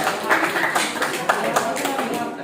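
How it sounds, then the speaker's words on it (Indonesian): Audience applause for a student group at a teacher-training presentation session, a steady wash of many hands clapping throughout with a few sharper individual claps standing out, fairly close and loud, with a hint of voices mixed in. "aplaus untuk kelompok 2"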